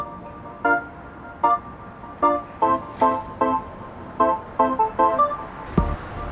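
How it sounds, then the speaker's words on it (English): Bangkok street traffic with motorbikes and tuk-tuks, a loud run of short engine revs and horn-like bursts repeating every half second or so, close by, ending in a sharp clatter, with no voices. "There's loud motorbikes and tuk-tuks everywhere, and the traffic is pretty terrible today"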